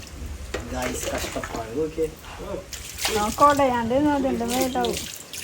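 Water is poured from a cup and splashed in intermittent bursts while bathing, close by, while a person talks over it.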